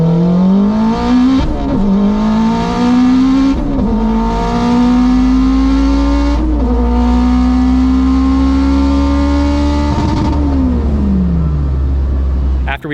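A turbocharged all-wheel-drive Honda RSX race car with a sequential gearbox pulls hard at the track, its engine revving up loudly in several rising sweeps separated by quick gear shifts, close and continuous.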